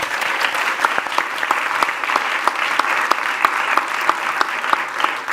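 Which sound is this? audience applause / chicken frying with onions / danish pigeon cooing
audience applause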